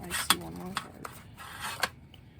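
Playing cards riffle and clatter through a card shuffler in a few quick bursts of rapid flicking, close by, while a person talks over the noise.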